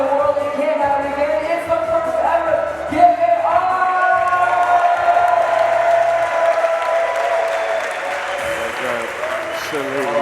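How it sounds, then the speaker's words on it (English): A crowd at a freestyle trampoline world championship cheers and applauds loudly, with whoops and shouts rising over continuous clapping, while an announcer talks over the noise. "Absolutely revving this crowd up."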